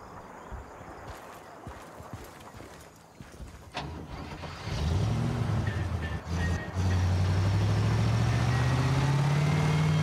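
Military vehicle in the video game Battlefield: Bad Company starting up and driving, a loud steady engine rumble that rises in pitch as it accelerates, following scattered clanks and in-game noises.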